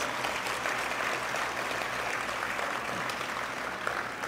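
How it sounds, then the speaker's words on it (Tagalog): A church congregation claps together in steady, dense applause at a worship service, the sound sustained and fairly even throughout with no voices standing out. "Sa pangahong palakpak para sa ating Diyos"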